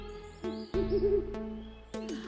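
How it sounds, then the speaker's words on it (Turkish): An owl hoots in a short wavering call against a quiet background, with a few sharp clicks spaced through the moment. "Bir baykuş yardım için ağlıyordu"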